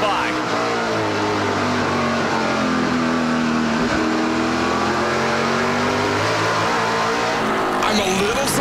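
NASCAR Pinty's Series stock cars race at the 2018 Bumper to Bumper 300, their engines a steady, droning roar throughout, while a commentator talks over the track noise.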